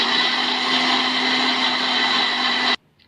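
Kitchen blender beats eggs and vanilla for a cake batter, a loud steady high whir running for a few seconds before stopping abruptly into near silence.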